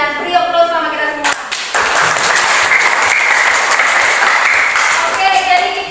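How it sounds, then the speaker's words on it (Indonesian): Students in a classroom applaud after finishing their group presentations, with sustained, loud, dense clapping following a brief moment of speech. "Presentasi kalian, beri aplaus sama kita semua"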